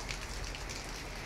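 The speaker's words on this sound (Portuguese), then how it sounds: "Todo mundo escondendo da chuva, menina." Steady rain falls on a surface outdoors in Brazil, a soft continuous hiss of close, dense drops with no voices over it.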